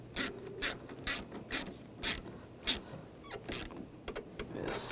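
A hand ratchet tightens the negative battery terminal on a 2015-2020 Cadillac Escalade, giving a series of close, sharp clicking bursts in an uneven rhythm, with a few quicker clicks toward the end.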